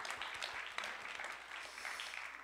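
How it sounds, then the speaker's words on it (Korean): Audience applause for Professor Shin Suk-gu at a 2022 Korean school praise competition, a steady, moderately faint wash of clapping with no voices over it. "우리 신숙구 교수님께 박수 부탁드리겠습니다."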